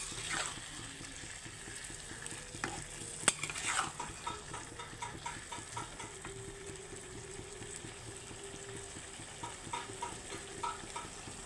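Spice masala and broiler chicken are stir-fried in oil in a pan, giving a steady, moderate sizzle broken by rhythmic scraping and clinking strokes of a spoon against the pan.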